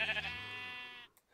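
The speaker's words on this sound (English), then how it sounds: "That sheep." A sheep in a video game gives a single clear, wavering bleat lasting about a second, close and alone before falling silent.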